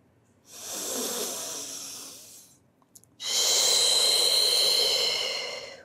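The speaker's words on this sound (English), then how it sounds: "Long breath." A long, deep breath taken during a Pilates workout with weights, heard close and soft as two sustained airy exhales separated by a short pause.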